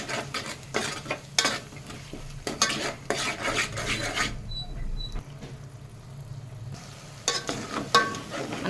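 Coconut masala frying in a pan and being stirred, with scraping spoon strokes, light sizzling and clinks of metal, pausing for a quieter stretch before the stirring resumes, close and steady.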